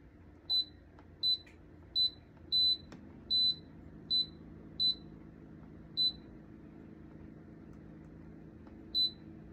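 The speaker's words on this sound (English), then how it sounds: "it'll beep on each one until I get over to yogurt" Instant Pot pressure cooker beeping as its program buttons are pressed toward the yogurt setting: nine short, clear electronic beeps at irregular intervals over a quiet room background.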